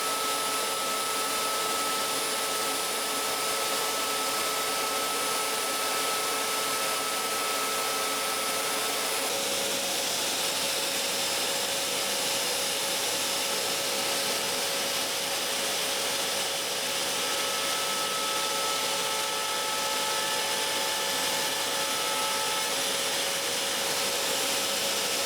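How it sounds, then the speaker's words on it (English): A Shaper Origin handheld CNC router cuts a 45-degree miter diagonal into plywood on a radial-arm-saw jig, giving a steady, loud, unbroken whine with broadband hiss for the full stretch and no talking. "So it's time to cut the diagonal, standard 45 degrees for the miter."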